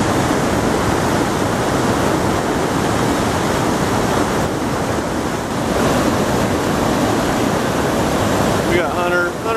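Rushing water from an Oregon waterfall that a kayaker is about to run, a loud steady broadband roar filling the whole stretch, with faint voices and a brief whoop near the end.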